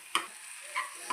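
Tomatoes frying in oil for a tomato roti pachadi make a brief, soft, steady hiss, broken by a few light taps of a stirring utensil.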